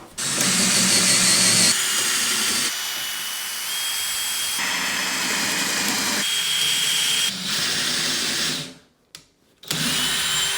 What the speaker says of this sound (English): I'm gonna drill, okay?